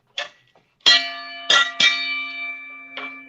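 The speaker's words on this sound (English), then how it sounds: "Oh, Shucky, he rung the bell" A bell is struck several times in quick, uneven succession. The strikes are loud and metallic, and a clear ringing tone hangs on between them, with a fainter tap at the end.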